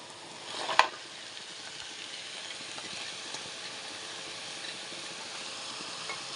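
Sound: onions frying in a pan for bottle gourd curry

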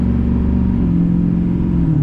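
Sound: Duramax 6.5 diesel truck revving with turbo whistle

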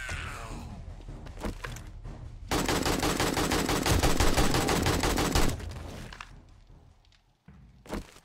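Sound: gunfire from a video game

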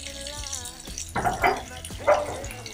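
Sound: water running from old Victorian bath taps

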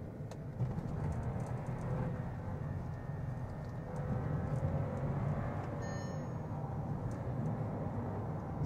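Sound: Skoda Slavia engine and exhaust while driving

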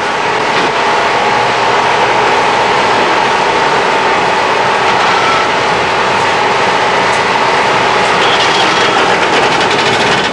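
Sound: air-cooled two-stroke Trabant engines running on test stand

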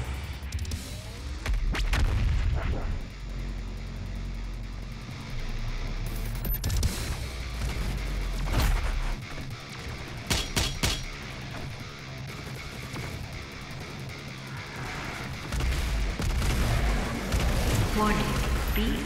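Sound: BFG 10,000 cannon firing in DOOM Eternal video game

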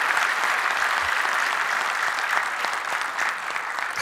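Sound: audience clapping loudly

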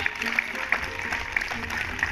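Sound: hands clapping

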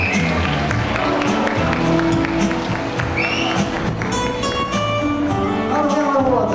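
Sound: audience applause for a singing competition winner

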